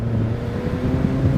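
A BMW Z3 with a 1.9-litre four-cylinder and Magnaflow exhaust drives along a back road, a steady low engine drone with exhaust rumble and some wind, no voices.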